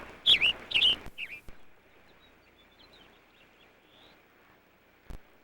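Birds chirp in a cottonwood wetland habitat, a few sharp high calls close together at the start, then quiet outdoor ambience with faint distant twitters and a single soft knock near the end.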